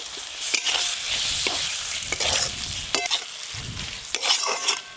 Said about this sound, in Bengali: বেশ ভালো করে মশলা কষে নিয়েছি।